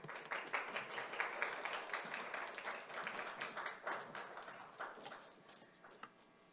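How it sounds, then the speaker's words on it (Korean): A church congregation applauds during a Wednesday sermon service, a dense burst of clapping that rises, stays lively, then tapers off with a few scattered claps at the end. "우리 나오실 때 한번 박수로 격려해 주시면 좋겠습니다."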